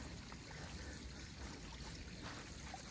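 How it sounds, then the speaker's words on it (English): Water trickling down rock on the Appalachian Trail, a steady faint splashing hiss of running water that continues evenly throughout, with no talk. "It's dripping down."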